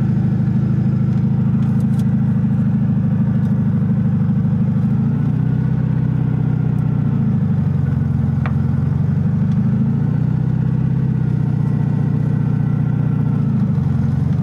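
An old Volkswagen Super Beetle's air-cooled engine idling steadily and loud up close, its low droning rumble swelling and easing slightly, with a faint buzzing insect-like whine from a mechanical fault riding over the steady note.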